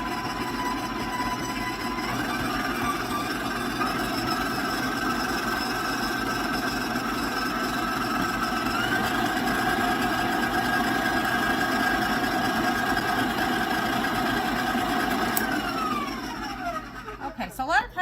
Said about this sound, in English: As the mixer's going, I will slowly add in the flour